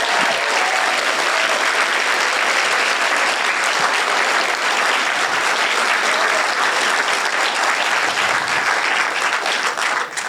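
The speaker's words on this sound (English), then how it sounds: "can we have just a round of applause for all 10 of our presenters?" A large crowd claps steadily and loudly for about ten seconds, a dense continuous wash of applause with no speaking.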